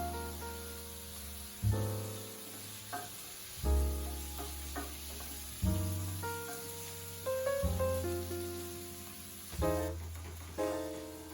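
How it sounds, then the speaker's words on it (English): Scrambled eggs cooking in a pan at a family breakfast, a continuous sizzle and frying hiss broken by repeated louder stirring scrapes every couple of seconds, close and without talking. "So you've definitely got time to cook your bacon and your vegetables while the scrambled eggs are"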